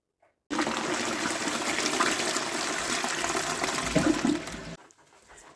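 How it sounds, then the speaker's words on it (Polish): A toilet cistern flushes blue, scented water into the bowl in a clean bathroom, one strong continuous gushing rush, close and loud, that tails off into a quieter trickle and refill. "i już ta woda nam spływa niebieska, pachnąca e, prosto z tej spłuczki"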